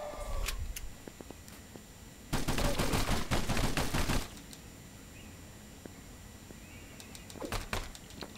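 Rapid bursts of automatic gunfire from the video game Cobalt arrive as a dense volley in the middle, framed by a few scattered single shots before and after.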